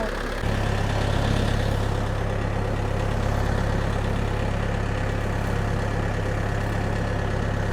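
A DTZ 5404 tractor engine idles steadily at about 1000 rpm, a loud, close, continuous low rumble with a constant hum that starts abruptly and holds without change.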